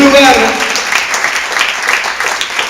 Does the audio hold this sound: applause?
yes